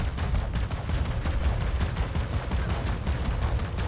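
Rapid sustained gunfire from Tusk Griffin mech weapons in the robot battle game War Robots, a dense continuous burst of shots lasting throughout with no talk.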